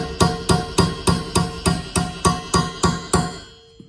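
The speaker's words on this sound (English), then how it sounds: "And then what I do is I just get the chisel" Steel chisel struck by a hammer against a crankshaft wear sleeve, eleven sharp metallic blows in an even, quick rhythm, each ringing briefly before the next, close and clear with no talk.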